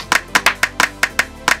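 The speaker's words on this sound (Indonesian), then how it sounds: "Kok tepuk tangan?" Hand clapping during a school quiz show, seven sharp, evenly spaced claps in a steady rhythm, close and clear with no talk over them.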